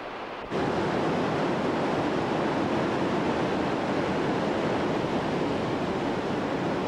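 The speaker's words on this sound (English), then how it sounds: "This thundering roar is the sound of a small river, barely several kilometers long, coming to life in the Jura Mountains." The Lison River, a small torrent in the Jura Mountains, thunders in a dense, steady roar of rushing water that starts abruptly and stays loud and unbroken, close by with no voices.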